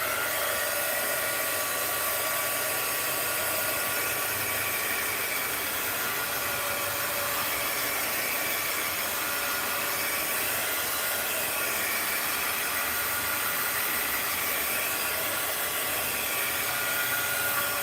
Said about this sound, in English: And then I hit it with the heat gun, and that kind of gets rid of that crease.